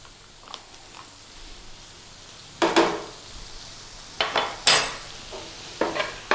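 A spoon stirring dairy creamer into a curry in a pan, short scraping and sloshing strokes in a few close bursts over a faint sizzle.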